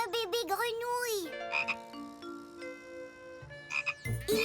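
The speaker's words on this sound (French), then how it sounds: "Regarde! Un bébé grenouille." A cartoon baby frog croaks in a series of bright, warbling calls that rise and fall, with music and other animated effects around it and a loud burst near the end.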